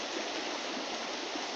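The Eresma river flows over stones, a steady, dense rushing of water that stays constant and fairly close for the whole short stretch, with no voices.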